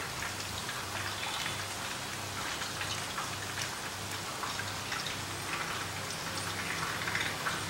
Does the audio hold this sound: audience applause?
no